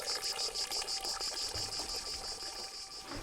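Cicadas singing in a sunny garden near a fountain, a steady pulsing high buzz repeating in rapid regular beats, with a faint wash of water beneath.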